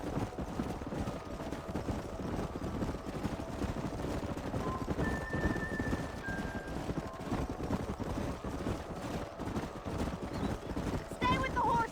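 Horse hooves clip-clopping in a steady, fairly faint rhythm across a canyon in Red Dead Redemption, with an occasional neigh, wind and talk over it.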